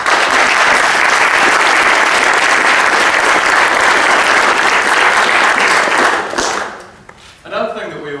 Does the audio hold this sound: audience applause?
yes